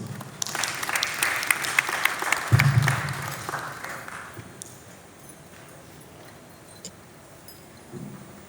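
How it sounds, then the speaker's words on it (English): An audience applauds at a Pan-African panel discussion event, a burst of clapping in the first few seconds that fades to scattered claps and quiet room noise. "A round of applause, please."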